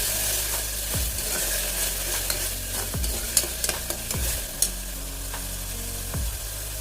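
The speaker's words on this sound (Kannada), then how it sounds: "ಉಪ್ಪು ಸೇರಿಸಿ ಅದನ್ನು ಚೆನ್ನಾಗಿ ಮಿಕ್ಸ್ ಕೊಡ್ತಾ ಇದ್ದೀನಿ." A spiced breakfast mixture fries in a pan with salt while a spoon stirs it, a steady close sizzle under repeated scraping strokes about once a second, with no voices.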